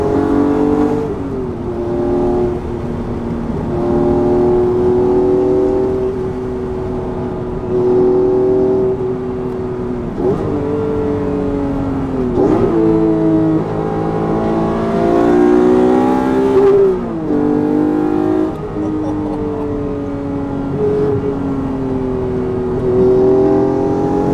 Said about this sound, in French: Le son de la voiture est extraordinaire.